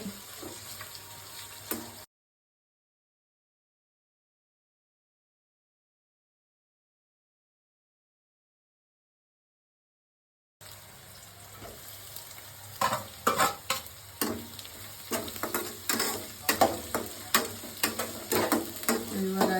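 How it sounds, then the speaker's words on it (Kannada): Onions fry in a pan for fried rice, a soft sizzle at first, then silence, then a louder stretch of crackling and stirring with repeated scraping strokes against the pan. "ಸ್ವಲ್ಪ ಈರುಳ್ಳಿ ಚೆನ್ನಾಗಿ ಫ್ರೈ ಮಾಡ್ಕೋಬೇಕು ಗೋಲ್ಡನ್ ಬ್ರೌನ್ ಬರೋವರೆಗೂ"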